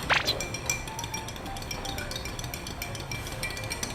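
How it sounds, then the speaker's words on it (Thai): Iced cocoa made with mixed milk being stirred in a glass, with a sharp clink at the start followed by a run of light, rapid tinkling taps against the glass, close up. "คนเลยคนเลยให้เข้ากันเลยนะคะ คนคนคนค่ะ"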